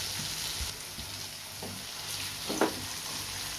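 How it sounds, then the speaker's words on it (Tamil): Paneer roasting in oil in a heavy-bottomed pan gives a steady close sizzle with soft crackles and one brief stir or scrape near the end, and no voices. "பன்னீர் எண்ணெயில் நல்லா வந்து ரோஸ்ட் ஆகிடுச்சு"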